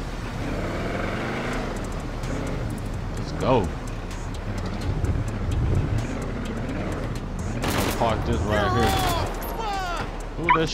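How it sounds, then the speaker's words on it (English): Gunfire in GTA 5 crackles in short bursts under a dense mix of car engines and game noise, with people talking over the action throughout. "Shooting."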